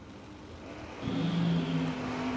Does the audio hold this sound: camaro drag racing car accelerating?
yes